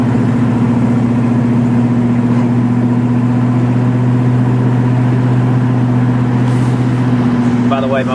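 A 1965 Ford Mustang with a 289 V8 cruises along an open highway, its engine holding a steady low hum under wind and road noise, with a voice speaking briefly near the end.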